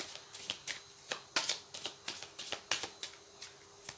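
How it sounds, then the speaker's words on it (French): Oracle cards are shuffled by hand, giving a quick series of soft riffling slaps in an uneven rhythm, close and quiet. "vous pouvez bien évidemment avancer la vidéo pendant le brassage des cartes"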